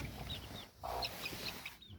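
A village hen clucks near her brood of chicks, giving a few soft clucks among faint high chick peeps over quiet outdoor background noise.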